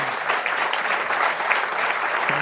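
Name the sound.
audience applause for panelists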